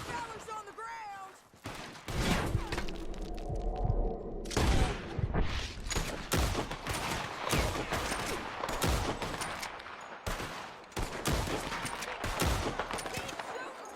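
Shootout in Red Dead Redemption 2, with dense, continuous gunfire from multiple guns cracking loud and near, heavy overlapping volleys and occasional booming blasts, while voices shout over the fight.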